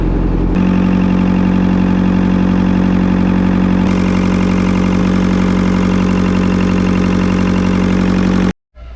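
A loud boat engine runs steadily at idle at a dock with a constant low drone and a strong hum, then cuts out abruptly just before the end.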